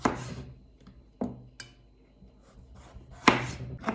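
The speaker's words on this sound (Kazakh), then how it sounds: "Одан соң картоп тураймыз." A knife chops raw potatoes on a board for homemade Kazakh manty filling, landing a few sharp separate cuts spaced well apart, with quiet pauses between them and no talking.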